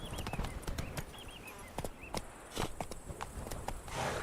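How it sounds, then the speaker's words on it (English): A horse's hooves clip-clop at a steady walking pace in the open-world video game The Witcher 3: Wild Hunt – Blood and Wine, close and clear over soft ambient background. "Whoa there, Roach"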